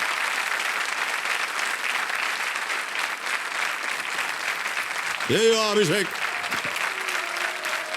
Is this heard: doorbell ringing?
no